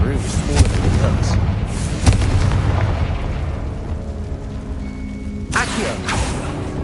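Confringo spell blast in the Hogwarts Legacy wizarding game: a deep booming explosion with rumbling debris that fades, followed by a couple of sharper bursts near the end, a voice speaking over it.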